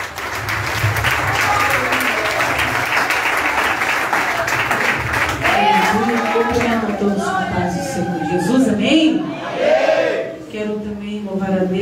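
A church congregation claps loudly and continuously in worship, the applause mixing with cheering and raised voices, then giving way to singing and shouting as the clapping fades.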